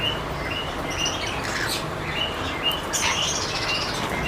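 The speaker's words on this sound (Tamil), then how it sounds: "இது பார்த்தீங்கன்னா லவ் பேர்ட்ஸ்." Lovebirds, including rainbow and albino ones, at a breeding farm in Chennai, chirping in sharp repeated tweets from a cage with some wing flutter, close and lively over a steady background hum.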